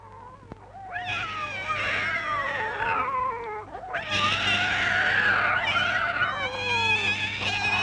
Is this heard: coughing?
no